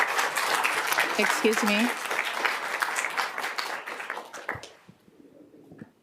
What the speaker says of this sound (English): If you agree with public comments, I ask for no audible clapping